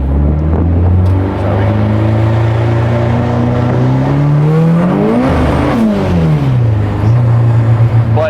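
A race car engine on a track accelerates hard and loud close by, rising in pitch through the gears with a shift near the middle, then climbing again.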